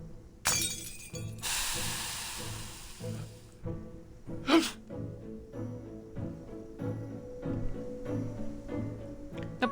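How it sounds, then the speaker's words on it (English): A potion bottle smashes on the floor in the video game Reverse 1999, a sharp glassy shatter with a hissing spray, a second crack moments later, then soft rhythmic breathy sounds and sighs. "The potion Suppleby smashes on the floor is taking effect."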